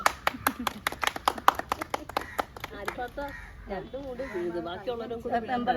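A small crowd applauding at the inauguration of a spinach farming plot, a quick burst of claps in the first half before voices take over and people talk.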